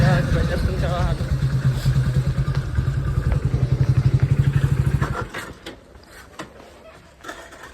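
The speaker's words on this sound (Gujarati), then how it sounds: "બાઇક લઈને નીકળી ગયા છીએ પેલા જવા દર્શન કરવા હતું." A motorcycle on a ride to a temple engine note, running steadily and close for about five seconds with a quick throbbing pulse, then cutting off and giving way to quieter rustling and faint knocks.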